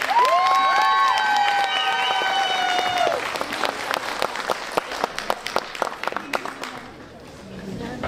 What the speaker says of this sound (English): another round of applause for our marching band